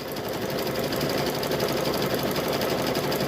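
A sewing machine stitches a rope onto a quilted handbag handle, running at a steady, continuous whir close by for the whole stretch with no pauses.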